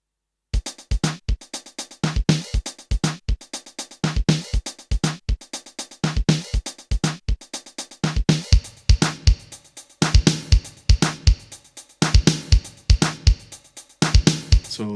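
A Yamaha RX11 drum machine plays a simple steady pattern of bass drum, snare, hi-hat and claps, looping in a tight, regular rhythm. The beat is loud and upfront, with no voice over it.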